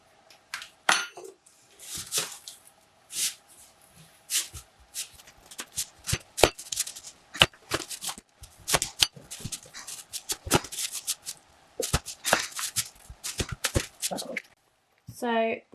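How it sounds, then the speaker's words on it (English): Yellow colouring is kneaded into fondant icing for a Winnie the Pooh birthday cake, heard as irregular soft slaps, presses and sticky squishes close by, with quiet pauses between bursts of handling. "And then knead it in."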